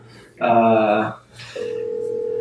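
A Skype call rings out, with a bright chirping ring tone followed by a steady held tone, loud and clear over a faint background hum.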